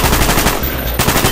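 Rapid automatic gunfire in the Call of Duty Black Ops campaign, a dense, loud, continuous burst of shots at close range with a brief dip before the firing resumes.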